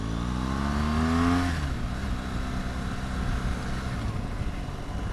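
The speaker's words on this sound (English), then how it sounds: "There is definitely a unique sense to the boxer engine, a unique feel." A 2018 BMW R1200GS boxer engine hums steadily while riding, its pitch rising briefly and then settling into an even drone. Loud wind noise rushes over the microphone throughout.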